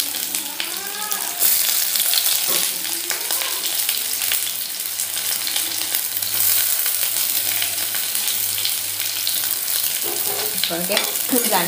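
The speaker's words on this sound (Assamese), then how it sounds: "এতিয়া গোটা জিৰা দুটামান দি দিছোঁ।" Whole cumin seeds sizzle and crackle in a very hot wok, a steady frying hiss running throughout with a few brief stirring clatters and a voice heard faintly in the background.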